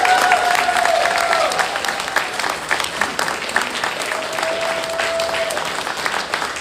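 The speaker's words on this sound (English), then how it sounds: "Everybody needs to clap for our sponsors." Audience at a TrotCon 2025 convention event applauding its sponsors, a loud, steady wash of dense clapping sustained throughout, with faint voices and a brief tonal whistle running beneath it.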